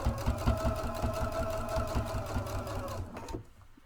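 A sewing machine runs steadily stitching in the ditch along a quilt seam, a fast rhythmic needle clatter that continues for about three seconds before stopping.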